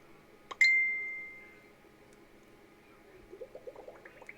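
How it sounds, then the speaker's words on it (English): A computer notification chime rings out once, a bright sharp tone that decays over about a second in a quiet room, followed by faint soft tapping. "Turn my notifications off because that was quite loud."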